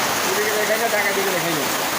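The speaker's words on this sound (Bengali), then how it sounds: "দেখেন কী পরিমাণে বৃষ্টি শরীরটা ভিজে গেল" Heavy rain pours down in a dense, constant hiss, loud and close, with a voice faintly audible beneath it.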